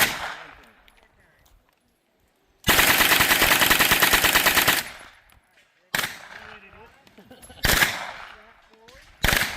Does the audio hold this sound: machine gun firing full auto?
yes